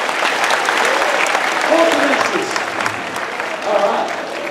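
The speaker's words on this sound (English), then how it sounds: "Give yourselves a round of applause" An outdoor stunt-show crowd at Warner Bros. Movie World applauds steadily and loudly for the stunt drivers' final performance, a thick continuous wash of clapping with voices and a few shouts mixed in.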